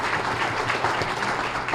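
An audience at a small business awards breakfast gives a round of applause for an award recipient, a full, even patter of clapping from many people that fills the room without a break.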